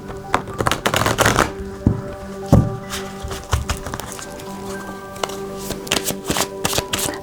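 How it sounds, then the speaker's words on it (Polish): Tarot cards being shuffled by hand, a quick run of crisp, close riffling and tapping bursts with short pauses between them, no talking. "musimy przetasować, bo karty się plątają"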